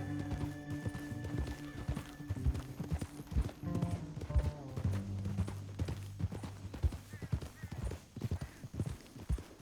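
Horse hooves clip-clop steadily in Red Dead Redemption 2, with a neigh and whinny breaking in and a low musical score running underneath.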